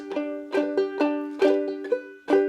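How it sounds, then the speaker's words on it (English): Basic clawhammer stroke on a banjolele, a banjo-bodied ukulele: a thumb note and downward strums with the back of a fingernail, in a bouncy repeating rhythm of about six plucked strums, close and clear with no voice. "This is our basic clawhammer stroke."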